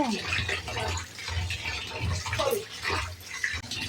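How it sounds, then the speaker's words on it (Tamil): Water splashes and runs continuously as gutted fish are washed by hand, a busy wet sloshing close by with faint voices underneath. "இந்த மீன் பார்த்தீங்கன்னா குடல் எல்லாம் எடுத்துட்டு இப்போ தண்ணி கழுவுறாங்க"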